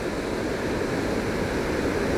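Small waterfalls at Valley Falls State Park in West Virginia send up a steady, broad rushing roar of flowing water, dense and unbroken from start to finish, with no voices.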